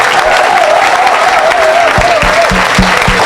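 A church congregation applauding, a loud dense wash of clapping with a sustained tone over it and some voices mixed in.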